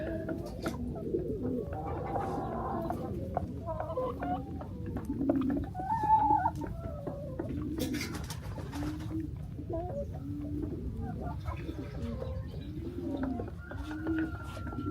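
Pigeons in an aviary coo repeatedly with low, throaty, overlapping calls at close range over a steady murmur of background noise, and a few faint chirps mixed in.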